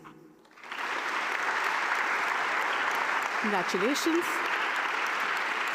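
Steady audience applause fills a conference hall during a teaching and learning award finalist presentation, swelling up after a quiet start, while a voice briefly speaks over it.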